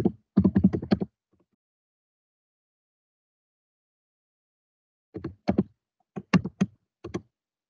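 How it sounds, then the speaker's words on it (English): A password typed on a computer keyboard while creating a user account: two close bursts of quick key taps, the first brief, the second after a long silence, sparse and clicky. "Verify it by typing it in again."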